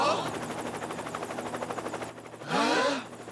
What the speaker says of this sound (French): Encore cet hélicoptère.